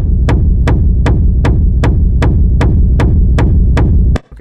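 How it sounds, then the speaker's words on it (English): An industrial techno kick drum processed with reverb and distortion pounds in a steady, even four-on-the-floor pulse, each hit loud and heavily saturated with a droning low-end tail, the loop stopping abruptly near the end. "This is a rack I made with some reverb and distortion to kind of help you kick cut through the mix."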